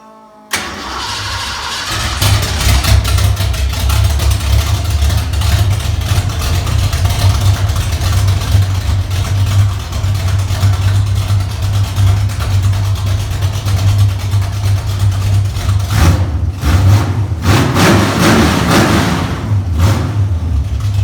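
A Foxbody Mustang with a large Holley carburetor cranks and fires up, then settles into a loud, steady, rumbling idle close by, with a few throttle blips near the end.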